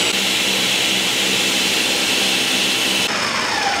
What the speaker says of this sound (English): My nice blender. I love my blender.